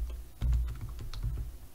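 Keys clatter on a computer keyboard in a quick, uneven run of close, soft taps, brief and alone.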